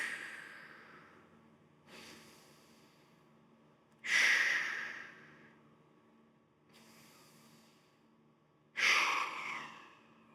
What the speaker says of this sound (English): So when you're ready, take those 3 breaths.